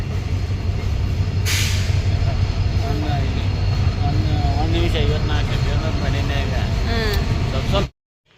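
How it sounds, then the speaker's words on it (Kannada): Continuous rumbling hum of a busy railway station while waiting for a delayed train, with distant murmuring voices and occasional faint squeals and chirps. "ರೈಲ್ವೆ ಸ್ಟೇಷನ್ದಾಗ ವೆಯ್ಟ್ ಮಾಡ್ಕೊತ ಕೂತಿದ್ದೀವಿ"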